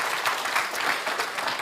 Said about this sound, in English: Come on, let's applaud the Lord.